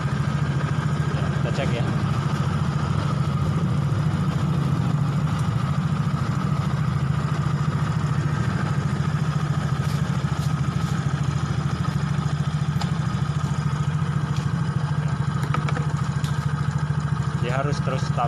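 A Yamaha X-Ride motorcycle engine idles steadily and runs rough with a misfire, a continuous near low rumble carrying faint clatter, while someone talks over it.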